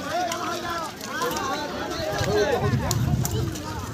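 Racehorses gallop in a village field race at Gopalnagar, their hoofbeats a rapid clip-clop under crowd babble and people talking nearby.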